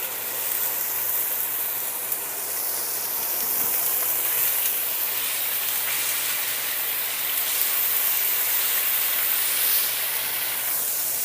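Chicken meat sizzles in a hot pan while General Tso's chicken is being cooked, a loud, continuous broadband hiss that swells and eases slightly throughout, with no talk.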